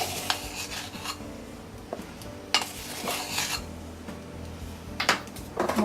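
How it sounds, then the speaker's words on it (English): Baking powder being added to flour in a mixing bowl for homemade biscuits, heard as light scraping, rubbing and clinking of a spoon against the bowl, with a few sharper taps scattered through the close, fairly quiet sounds. "To the flour, we're going to add 2 teaspoons of baking powder."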